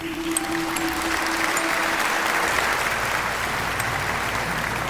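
Steady, full applause from a crowd, continuous and even throughout, with a faint tonal hum early on.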